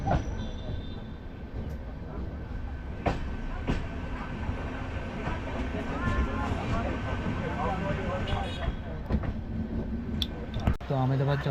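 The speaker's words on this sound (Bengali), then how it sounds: "যাওয়ার যে আমার ট্রেন রয়েছে সেই ট্রেন এখন এসে থামলো" The Somnath to Ahmedabad train in Gujarat rumbles and clatters steadily as it pulls into a station and stops, its wheels and carriages grinding on, with speech mixed in over the noise.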